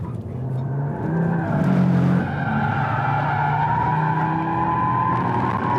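An Audi RS3 spins pirouettes in a drift, tires skidding and squealing in long sustained howls over a strained engine drone, loud and close throughout with no talk.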